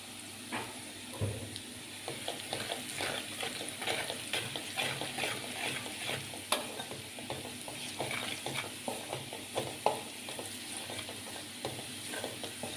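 Green chilies and spices sautéing in oil for vaghareli khichdi, a continuous close sizzle with frequent small crackles and stirring taps throughout, no talking.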